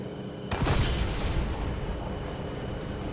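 A tank cannon fires in the War Thunder video game, one sharp, loud blast followed by a rumbling, rolling explosion that lingers under steady engine and battlefield noise.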